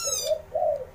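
A spotted dove (tekukur) coos nearby, two soft mellow notes in quick succession, loud and clear with nothing else heard.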